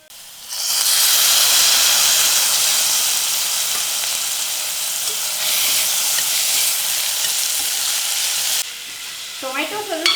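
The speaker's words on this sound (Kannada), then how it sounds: "ಟೊಮೆಟೊ ಸ್ವಲ್ಪ ಸಾಫ್ಟ್ ಆಗೋವರೆಗೂ ಹುರ್ಕೋಬೇಕಾಗತ್ತೆ" Chopped tomato and onion frying in hot oil with mustard seeds, a loud steady sizzle and hiss running close and continuous for several seconds, with brief stirring scrapes and a short spoken word near the end.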